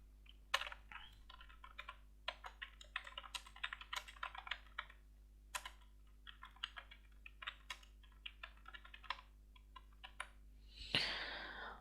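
Computer keyboard typing a school name, quick irregular bursts of key clicks spread across the whole stretch, fairly faint and close, with a brief louder rustle near the end.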